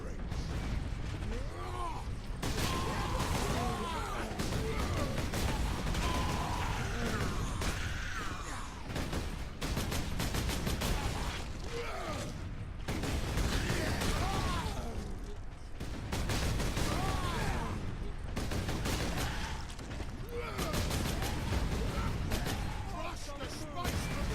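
Dense, continuous gunfire and clanking mechanical noise fill a battle in the Warhammer 40k video game Space Marine, loud and unbroken, with voices heard over it.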